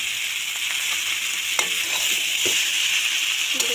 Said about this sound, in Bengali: এখন তেলে রাখা নুডলসগুলো এখানে দিয়ে দেওয়া হলো